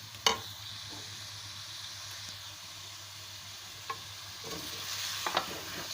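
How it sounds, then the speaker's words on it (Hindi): Tomatoes and masala for chicken do pyaza frying over fairly high heat, a quiet hissing sizzle with a few sharp spoon clinks against the pan, close by and without talk. "थोड़ी तेज़ बाहि ते असां हिनखे भुञंदासीं त जीअं टमाटर नरम बि थियनि"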